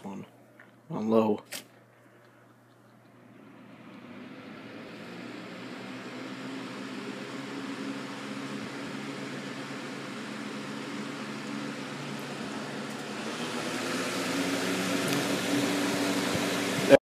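An electric fan switched on at its low setting, spinning up after a brief click to a soft, steady whirring hum that holds evenly, with a faint airy rush building slightly near the end.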